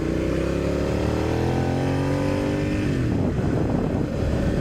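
Motorcycle with a 90-degree V-twin engine, a close, loud throbbing idle that rises in pitch as the throttle is blipped, then drops back to a rough, lumpy rumble.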